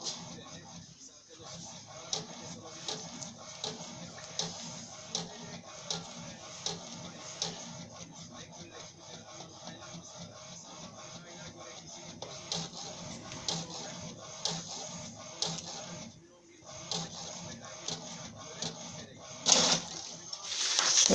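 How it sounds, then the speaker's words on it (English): An HP DeskJet printer runs off a test report, its steady mechanical whir broken by regular clicks and carriage passes, with a brief louder burst near the end. "sends the printout file to the printer"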